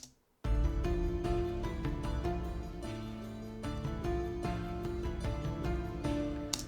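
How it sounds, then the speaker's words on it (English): A steady, driving war drum rhythm with lighter, thinner hits, layered under melodic tones and sustained harmony in an orchestral score, continuous and fairly loud throughout. "I've thinned out the drums a little."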